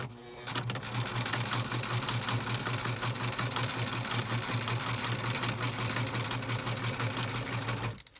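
Sewing machine stitching scrapbook paper runs at a steady fast needle rhythm with a humming motor, loud and close for about seven seconds before stopping, with no talk over it.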